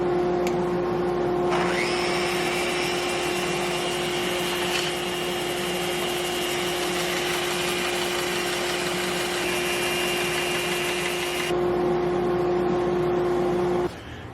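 Wooden live-edge bowl being sanded on a spinning lathe, a steady loud motor hum with a high whine and abrasive hiss that starts abruptly, holds evenly, then cuts off near the end.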